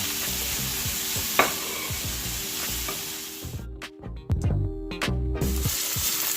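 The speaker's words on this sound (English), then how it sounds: "Now we'll add in the chopped onions. Stir those in." Chopped onions and sausage chunks frying in a pan, with a steady sizzle and the repeated scrape and clack of a spoon stirring, close up, with no talk.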